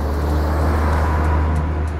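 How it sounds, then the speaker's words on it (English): A massive lorry rumbles past nearby on a seaside promenade in Fuengirola, a loud, steady low roar with broadband road noise filling the whole moment. "sorry about the noise, massive lorry just went past"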